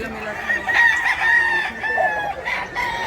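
A young rooster, a seven-month-old stag, crows loudly and close by, a long drawn-out call followed by a second shorter one, with faint voices in the background.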